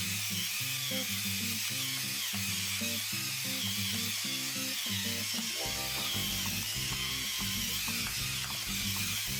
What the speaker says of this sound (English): I've got the FinaMill and the competitor on a much finer setting. Let's compare them